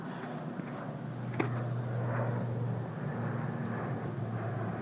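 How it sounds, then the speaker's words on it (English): A steady, low drone from a military airplane passing overhead near a military base fills the air, with a faint click partway through and no voices. "I live near a military base, if you couldn't tell. So there's airplanes all day, every day."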